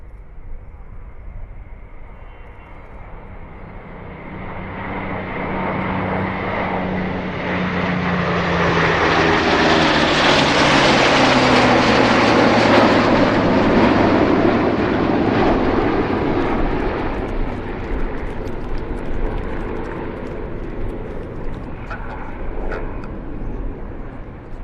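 Spitfire MH434 flies a display at Duxford, its piston engine growling in from a distance, building to a loud roaring pass with a falling pitch, then fading away, with faint speech in the background.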